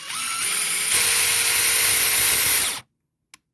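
A power drill bores a hole in a board for a Cloud Wheel donut wheel set on a Meepo AWD Pro skateboard, a loud steady whine lasting almost three seconds before cutting off, followed by a small knock.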